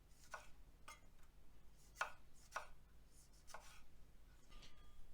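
A knife chops through an onion on a cutting board, cut vertically while held upright, giving about seven crisp, separate strikes at an uneven pace, close and fairly quiet, with no one speaking.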